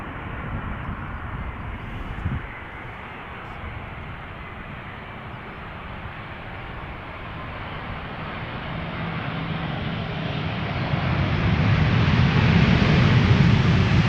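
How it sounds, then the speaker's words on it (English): A KLM Boeing 787-10 Dreamliner arriving at Schiphol from Colombia gives a broad, hissing jet rumble that swells steadily louder toward the end, heard on its own. "The first airplane to arrive, obviously from KLM, arriving from Cartagena."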